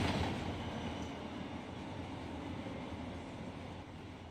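Freight train rolling past in the Run 8 Version 3 simulator, a continuous rumble with light clickety-clack of wheels, starting louder and slowly fading, no one talking.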